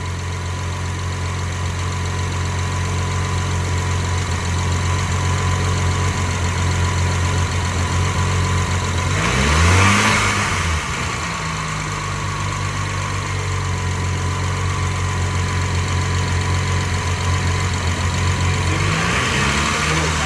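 A BMW N54 engine idles steadily and loudly, then revs up and back down about halfway through, with a second brief rev rising near the end.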